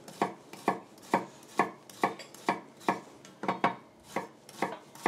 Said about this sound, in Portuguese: vou só picar as chalotas